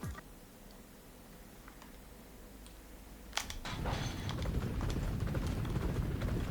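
A racehorse in the video game Champion Jockey, ridden at Samurai Town over a mile of dirt, breaks into a dense, fast patter of hoofbeats partway through, replacing a quieter opening.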